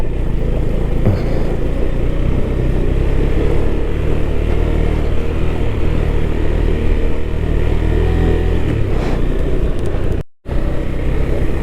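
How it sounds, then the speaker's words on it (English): A motorcycle rides over a dusty, rough road patch behind a truck, its engine a loud, continuous low rumble mixed with wind buffeting and road noise, with a brief dropout near the end. "The bike is getting no traction whatsoever."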